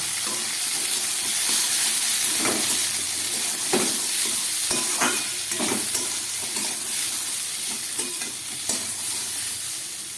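Steady frying sizzle of boiled potatoes and chickpeas in a pan while a spoon scrapes and stirs in irregular knocks, close and continuous.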